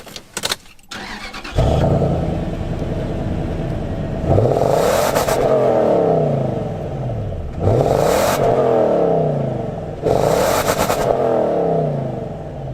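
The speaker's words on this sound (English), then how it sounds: "let me fire this up so you can hear the engine as well" A high-mileage SUV with 187,000 miles cranks and fires up, settles into a steady idle, then gets three sharp revs spaced a few seconds apart, heard close and alone.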